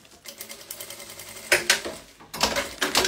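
A sewing machine stitches through fabric in rapid bursts, a quick mechanical clatter that pauses and restarts, close and with no talk.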